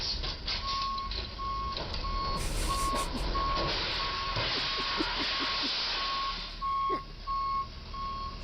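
Reversing beeps from a hire truck repeat steadily at a fixed pitch over a loud, continuous engine rumble and hiss, with the warning tone pulsing evenly throughout.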